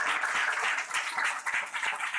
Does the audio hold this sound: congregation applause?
yes